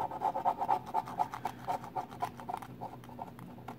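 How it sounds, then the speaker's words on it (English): A Scotty Peeler scraping sticker residue off a retro game cartridge, a quick close rhythm of short rasping strokes, soft and repetitive, with no talk. "You can use this Scotty Peeler as well to kind of get some of this residue that got left behind."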